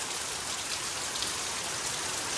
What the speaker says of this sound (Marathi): पाऊस जोरदार पडता